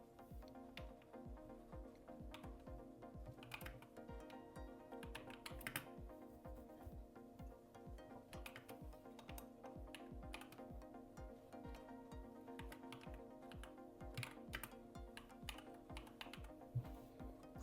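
Steady keyboard typing on a computer keyboard while text is entered into a website builder, a continuous run of quick keystrokes at close range over a faint background hum, with no voices.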